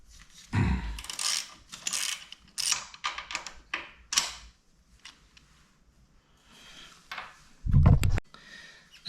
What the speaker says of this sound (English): you're going to remove this bolt from in here with a 14mm socket that you've been using